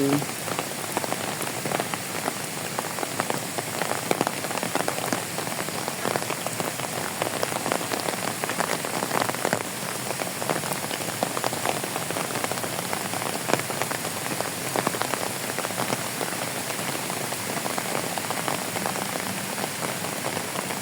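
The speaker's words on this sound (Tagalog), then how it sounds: "Pumapatak na naman ang ulan sa bubong ng bahay." Steady rain pattering on a roof, a dense, even patter of drops lasting throughout with no voices.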